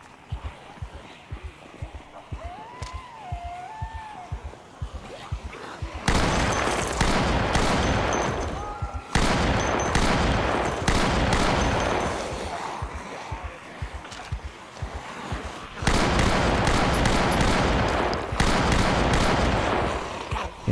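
Gunfire in Project Zomboid: faint rhythmic footsteps first, then repeated loud rapid shot bursts in several clusters with short pauses between them, and a brief sound of reloading.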